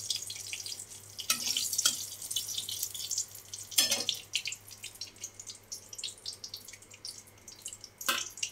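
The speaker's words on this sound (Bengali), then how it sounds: "ফোড়নে দেবো তেজপাতা, সামরিচ আর থেতো করা এলাচ দিয়ে দিচ্ছি" Bay leaf, dried chili and crushed cardamom dropped into hot oil for tempering, giving a few sharp sizzling bursts over a faint crackle, close and moderately quiet with no talking.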